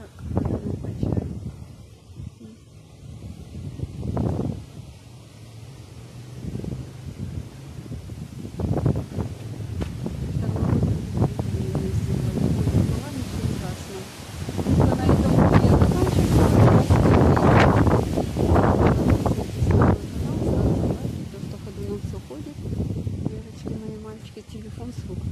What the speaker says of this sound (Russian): Ветер какой. Все идет, все ходуном качает.